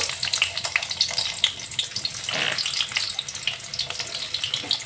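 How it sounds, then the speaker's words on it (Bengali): Chopped onions with dried red chilli fry in a pan until lightly browned, a continuous close sizzling hiss with small crackles and bubbling, no voice over it. "পেঁয়াজটাকে আমি একটু হালকা করে বাদামি করে ভেজে নেব"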